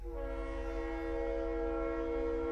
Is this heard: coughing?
no